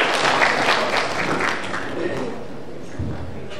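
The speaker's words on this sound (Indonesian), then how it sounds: "Tepuk tangan buat Ibu dong" An audience at a public lecture and book discussion claps to welcome someone speaker, a steady burst of applause that carries on throughout with voices mixed in.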